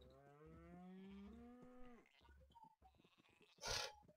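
Cow mooing in Minecraft, a long low harmonic moo followed by shorter animal calls and a sharp burst of noise near the end, heard alone without talk.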